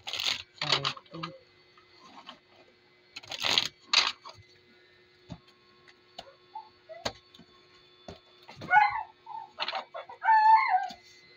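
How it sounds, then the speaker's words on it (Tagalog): Fighting roosters kept just outside a house cluck and call in short, scattered bursts, some fairly close and loud, amid quiet gaps, ticking and faint household noise, with no one talking. "meron silang mga manok, yung pansabong."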